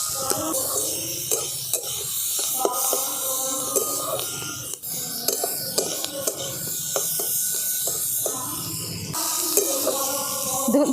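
Onion and carrot with salt fry in white oil as a momo filling, giving a steady close sizzle with repeated scraping stirs and small clatters throughout.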